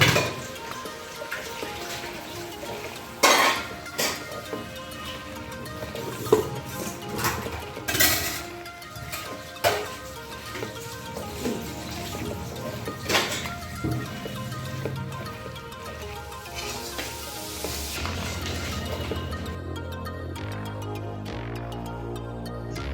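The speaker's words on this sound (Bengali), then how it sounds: "দিয়ে আমি এবার এই মিশ্রণটিকে ভালো করে কচুরলতি, রসুন বাটা, সর্ষে বাটা, কাঁচা লঙ্কা বাটা দিয়ে ভালো করে এবার এটাকে চটকে মাখবো" Taro stolons are mashed by hand with garlic paste, mustard paste and green chilli paste, giving wet squelching and squishing close up, with occasional sharper taps and a few faint tones near the end.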